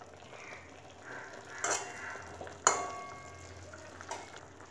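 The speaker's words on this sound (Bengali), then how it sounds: "ফুলকপিটা দিয়ে নাড়াচাড়া করে মিশিয়ে দেব।" Fried cauliflower stirred into a simmering curry in a pan, with a soft bubbling hiss and a few sharp utensil knocks against the pan.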